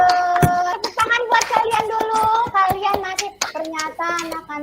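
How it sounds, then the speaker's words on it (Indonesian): Sharp hand claps ring out in quick bursts in a classroom while children's voices chant counted clapping patterns loudly over them. "Tepuk tangan."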